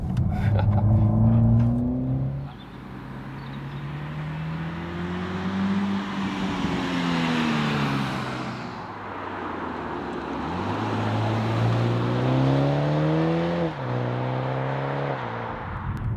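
A 2020 Toyota Supra 2.0 four-cylinder engine revs hard and loud on a racetrack, climbing through gears with rising pitch, dropping on shifts, then accelerating again in repeated surges.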